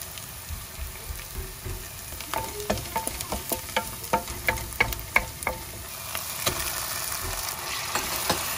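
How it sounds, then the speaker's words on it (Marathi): Curry leaves, green chillies and coriander crackle and sizzle in hot oil for misal. A run of sharp pops and spits stands out, along with a little stirring. The sound is close and steady, with no talking. "आणि करी पत्ता घालया त्याच्या वांगडा। ते घालया हरी मिरसांग, भाजे कोथमीर"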